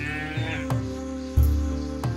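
A cartoon cow from a Kannada moral story moos in low, drawn-out, mournful calls, loud and close, with swells roughly a second apart and no talking.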